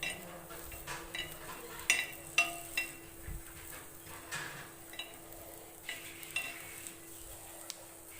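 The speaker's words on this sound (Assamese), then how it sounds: "অলপ সময়ৰ কাৰণে ভাজি ল'ম এনেকৈ।" Ginger, garlic and green chillies frying in a pan over low heat, a quiet ongoing sizzle broken by repeated light utensil taps and stirring scrapes.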